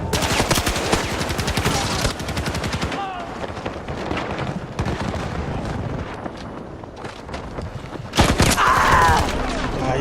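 Heavy Battlefield 2042 gunfire plays on PS5: a dense burst of rapid automatic shots up front, then scattered cracks and distant rattles, with another loud volley near the end and a voice speaking in between.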